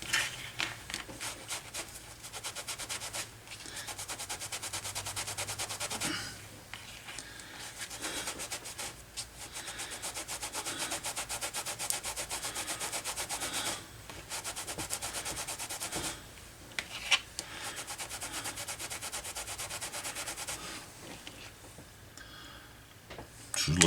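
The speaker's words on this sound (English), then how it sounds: "Grab me a rag, start buffing." Rag buffing a leather holster for a Mauser HSC pistol during repair, a continuous brisk rubbing swish in long strokes that stops briefly now and then before resuming, close and fairly loud.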